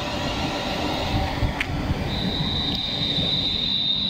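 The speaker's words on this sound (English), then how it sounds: "I'm just waiting for my train doors to open here before the train's ready" Train noise at a station with a steady rumble, a couple of brief clunks, then a high tone starting partway through, like a door chime or hiss.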